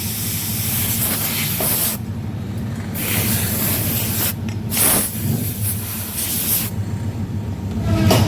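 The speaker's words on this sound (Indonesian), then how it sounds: "Lalu di sini semprot dulu saja" Cleaner sprayed onto the pulley of a Honda Vario scooter, heard as long, loud, close hissing blasts with short breaks between them and no talking.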